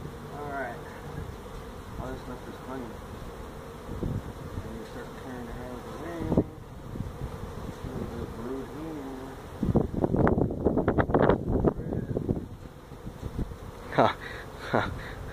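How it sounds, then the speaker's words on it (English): Honey bees buzzing steadily at close range around a hive in a tractor tire, with people talking over the drone and a louder stretch of voices partway through. "Look at all those bees around the tire."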